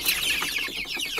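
Meat-breed chicks and hens cluck and peep together in a brooder, a dense close chatter of overlapping calls with no talk.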